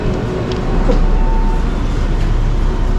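A subway station in Fukuoka carries a loud, steady rumble of a train and station machinery, swelling slightly after the first second, with faint higher clanks scattered through and no talk.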